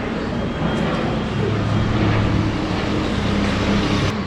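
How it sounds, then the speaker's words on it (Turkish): An airplane passes overhead in a Turkish city café setting, a steady broad engine roar that stays loud throughout, with faint background voices underneath. "Evet yine bir uçak"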